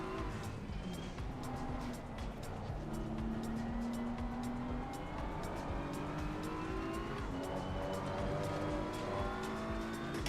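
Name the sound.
race cars in a racing video game, black McLaren approaching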